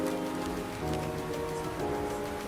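Rain pours outside a school classroom, an even, soft patter and hiss that holds steady across the moment without breaks.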